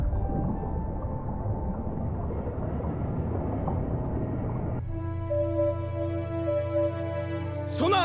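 In an anime naval scene, sonar picks up the propulsion of several warships. A dense low rumble gives way partway through to steady tonal hums and harmonic lines, with a sharp rising sweep near the end.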